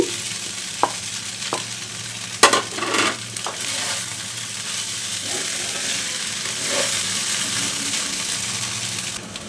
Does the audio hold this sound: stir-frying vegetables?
yes